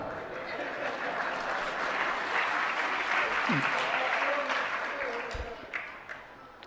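Audience applause at a Jain religious discourse, a steady sustained clapping from a large crowd that fills the hall for several seconds before tapering off at the end.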